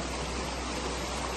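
Clear mountain stream at Polosang, a remote Tibetan border village, rushing steadily in a constant broadband flow, close and uninterrupted with no voices.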